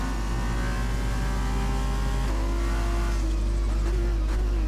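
Formula 2 race cars on wet tyres drone loudly and steadily during American GP qualifying, their engine note rising slightly as they head back toward the pit lane.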